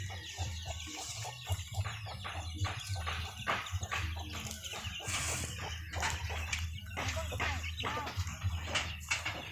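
Domestic backyard chickens on a household farm cluck repeatedly in quick, overlapping bursts, close and loud, with occasional crowing, faint background voices and ambient noise.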